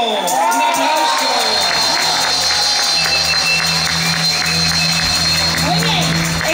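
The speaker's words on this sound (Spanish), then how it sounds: "¡Un aplauso!" A crowd at an outdoor church gathering in Chile breaks into loud, sustained applause mixed with cheering and shouts, filling the whole stretch close by.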